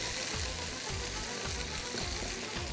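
Beef yakhni being browned in a pan for lagan pulao gives a steady, continuous sizzle with a watery crackle, loud and unbroken throughout with no talking.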